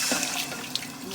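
Water pours into a pot of sauce, giving a steady, close splashing hiss that lasts the whole brief moment.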